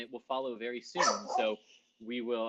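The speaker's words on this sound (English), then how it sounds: "That was my dog Starbuck." A dog named Starbuck lets out a short burst of barks in the middle, close and fairly loud, overlapping a person talking before and after.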